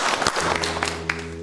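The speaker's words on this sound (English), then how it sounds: "Give yourselves a round of applause." An audience gives itself a round of applause at a live show, a short burst of clapping mixed with lingering tonal hum and a few sharper individual claps near the end.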